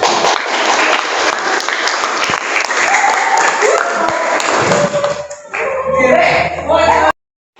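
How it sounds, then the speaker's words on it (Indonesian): Applause from a classroom after a group gives its presentation, loud and sustained for several seconds, with scattered voices and laughter mixed in before it fades and stops abruptly. "beri tepuk tangan"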